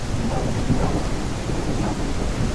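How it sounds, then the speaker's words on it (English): A thunderstorm in the kayaking game Kayak VR: Mirage rumbles with a steady, dense wash of heavy rain and low thunder, loud and continuous with no voices. "Oh, I'm gonna watch this lightning strike."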